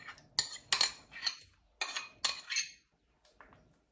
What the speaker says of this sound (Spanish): Agregamos el queso y agregamos el puré.